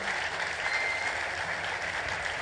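Studio audience applause at a televised Gulf Arabic results show, a steady dense wash of clapping filling the whole stretch without a break.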